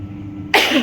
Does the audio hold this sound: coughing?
yes